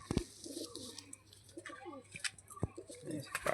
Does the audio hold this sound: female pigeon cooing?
yes